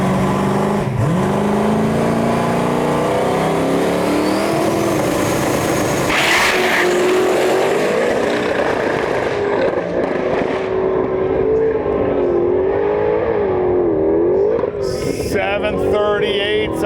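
A race car making a hot lap at a drag-and-drive event on a drag strip: a loud sustained engine roar with pitch swings as it revs and accelerates, rising to a high whine near the end.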